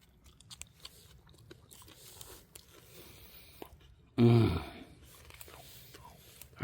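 A single close, crunchy bite into a stalk of wild onion grass outdoors in early spring, a brief loud burst that stands out against quiet background rustle.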